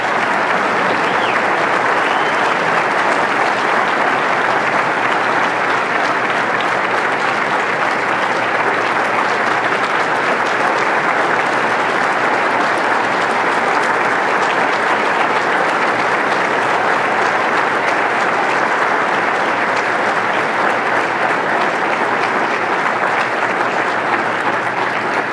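Sustained, even applause from a large audience at a 2010 Saab company event fills the room loudly and steadily for the full stretch, with no talk over it.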